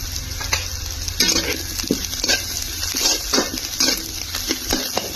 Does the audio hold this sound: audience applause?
no